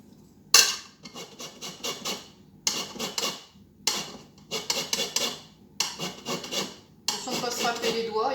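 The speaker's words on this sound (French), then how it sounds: "il faut une râpe à citron, à zeste" A hand zester rasps the yellow peel off a lemon in five or six bursts of quick scraping strokes, close and crisp, with short pauses between bursts.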